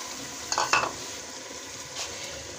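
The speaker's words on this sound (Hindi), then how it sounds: "जैसे ही हमारा लाइट लाइट सा ये ऑयल ऊपर आ जाएगा, हम इसके अंदर डाल देंगे अपने आलू।" Potatoes go into hot oil in a pan for aloo methi, a quiet steady sizzle with a couple of brief clatters near the start, heard alone without talk.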